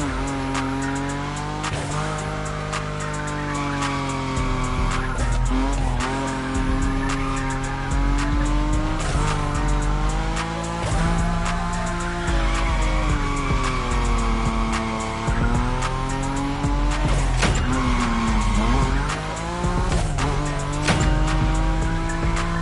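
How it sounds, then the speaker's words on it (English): A Nissan Nismo in The Crew Motorfest racing game slides at high speed, its engine roaring loudly and continuously while the tires squeal and skid in long, shifting wails. "Your Nismo is powerful enough to slide along on its own when you're at high speed"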